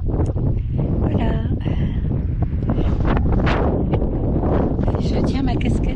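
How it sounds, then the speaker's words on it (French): Strong gusty wind on a hiking trail in Lanzarote, loud continuous buffeting across the microphone, with a person talking over it. "Je tiens ma casquette par moment parce qu'il y a beaucoup de vent. Il y a des rafales en tout cas."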